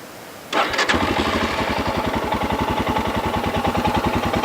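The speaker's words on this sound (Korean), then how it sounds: "단기통에 토동토동 하는 소리가 나죠." A Royal Enfield Himalayan single-cylinder motorcycle fires up after a brief starter whirr, then settles into a steady, loping thump-thump idle, close and clear with no talk.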